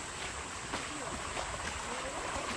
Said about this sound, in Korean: 이 저 산 계곡에서 내려오는 물이에요